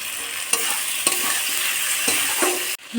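Spice paste with salt and tela kucho greens sautéed in a pan for a clam curry, a steady loud sizzle broken by several sharp scraping stirs, close and without voices.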